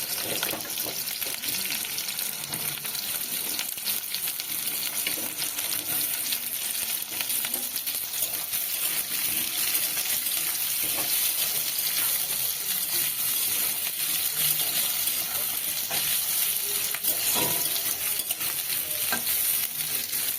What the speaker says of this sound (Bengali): তেলের ওপরে আমি আদা কুচি দিয়ে দিলাম তারপরে পেঁয়াজটা দিয়ে দিচ্ছি